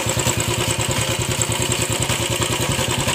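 A Royal Enfield Classic 500 motorcycle with a gear-shifting problem runs close and loud, its single-cylinder engine thumping in a fast, steady beat with a mechanical clatter and no break.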